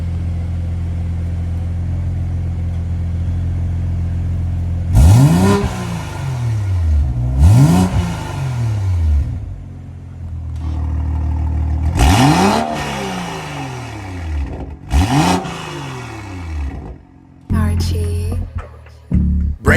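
BMW M240i with an aftermarket Alibaba exhaust, valve closed, idling low then revved hard four times in sharp bursts that fall back between each, loud and close, with a final quick blip at the end.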